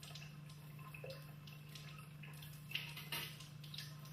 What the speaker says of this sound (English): Then he rinses the microsection thoroughly with water